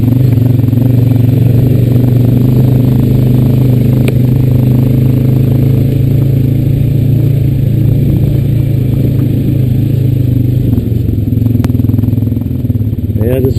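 A Honda Rancher 420AT ATV engine drones loud and close with a steady low-pitched hum as it rides around tobacco fields, with faint rattles over the top.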